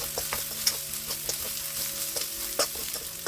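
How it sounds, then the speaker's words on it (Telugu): Turmeric being stirred into an oily frying mixture in a pan for okra fry, with steady sizzling and repeated spoon scrapes against the pan at an irregular pace, close and alone. "అందులోనే ఒక పావు టేబుల్ స్పూన్ పసుపు వేసుకొని మంచిగా కలుపుకోవాలి"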